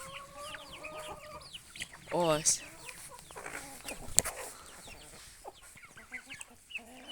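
Hens cluck and chatter nearby, with chicks peeping and a louder squawk partway through; someone speaks briefly in the background.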